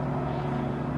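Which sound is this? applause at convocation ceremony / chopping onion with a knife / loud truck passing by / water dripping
loud truck passing by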